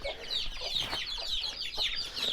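Several chickens cluck and chatter close by, a busy run of short squawky calls overlapping one another with no talking.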